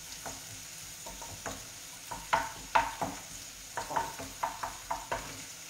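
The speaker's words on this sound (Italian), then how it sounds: "Facciamo soffriggere." Chunks of squid (totani) sizzle in a frying pan with a steady hiss, while a utensil stirs them in a series of sharp, irregular scrapes and clicks that grow busier toward the end.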